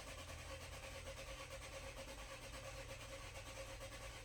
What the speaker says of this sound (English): start the Equinox by depressing the brake and pushing the ignition button